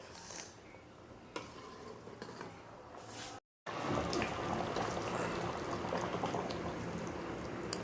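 A pot of Tamil-style chala fish curry simmers with a steady bubbling hiss and soft watery pops, briefly cutting out before resuming fuller and louder, with no talking.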